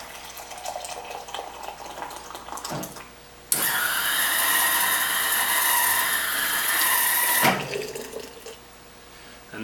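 Hot water from an espresso machine poured to preheat tea vessels, a steady splashing stream for about four seconds, framed by quieter clinks and trickles.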